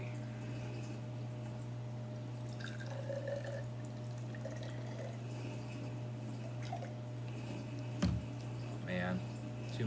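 Water poured into a graduated cylinder for a classroom measurement, a faint trickling and filling sound under a steady room hum, with a brief splash near the end.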